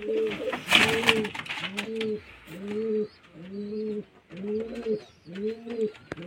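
A pair of pigeons coos in a regular, repeated rhythm, six or seven distinct rolling calls close by, with a brief rustle near the start.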